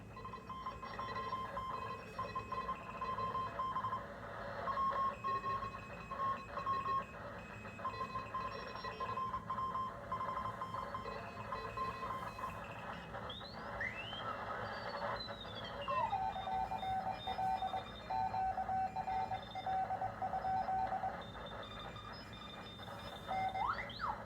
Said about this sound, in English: here's some amateur radio communications using Morse code.